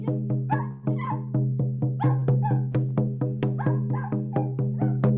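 A small dog yaps in quick, regular barks, loud and close, over a steady low droning hum during a drumming ceremony.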